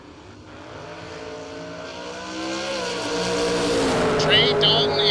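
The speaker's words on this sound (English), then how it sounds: "Dalton in that 69 Camaro, going to try to chase down this S10 dialed 613 right-hand side" A 1969 Camaro drag racing an S10 at a drag strip, engine roar building steadily louder as the cars launch and run down the track, with a race announcer talking over it.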